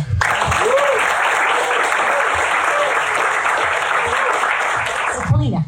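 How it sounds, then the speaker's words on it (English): An audience applauds a guest named Paulina as she is introduced at a talk, a dense, steady wash of many hands clapping that holds loud and even for several seconds before cutting off. "please join me in giving a round of applause to Paulina"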